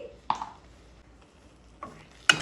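A spoon stirs turmeric into a thick cooked tomato pickle mixture in a pan, giving a few sharp scrapes and knocks separated by quiet pauses.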